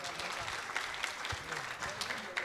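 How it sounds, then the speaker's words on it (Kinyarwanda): An audience on the talk show Meet Me Tonight breaks into fairly quiet, steady applause, a dense rustling patter of clapping with voices speaking over it. "Ibyo bintu mwabihaye amashyi"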